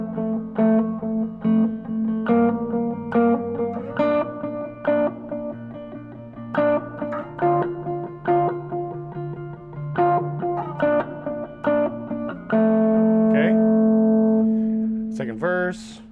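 Electric guitar rhythm part played through a delay and two reverb pedals: repeated plucked notes and chords in a steady pattern with echoing trails, clean and moderately loud, swelling to a sustained chord near the end.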